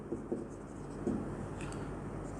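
A math problem is written out by hand, producing a few faint, brief scratching strokes close up over quiet room tone.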